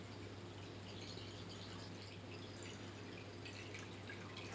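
Water poured into an insularium tank, a quiet, continuous trickling and splashing that stays steady throughout with no talking.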